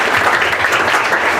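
Brief burst of audience applause for a young panelist at an international school event, dense and steady throughout without any voices.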